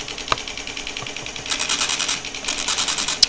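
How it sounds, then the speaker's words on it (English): An Epson M-190 dot matrix printer mechanism, driven by an Arduino, prints in quick rhythmic bursts of rapid buzzing pin strikes with clicks of the carriage between lines, close and clear with no talking. "If I press the go button, then the Arduino will start printing."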